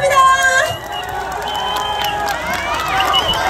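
Crowd cheering and clapping at an outdoor trot concert with award ceremony; loud, continuous whoops and applause fill the moment, with scattered shouts over a steady noisy wash.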